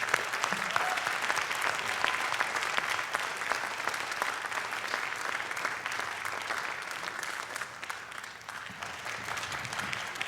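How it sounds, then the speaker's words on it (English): Sustained audience applause after a high school jazz band performance, a dense even wash of clapping from a large crowd that holds steady for about ten seconds. "Let's give them a round of applause."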